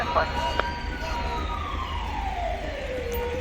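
Ambulance siren in the video game GTA 5, a steady electronic wail sweeping down in pitch over a few seconds, heard fairly clearly over continuous low game background noise.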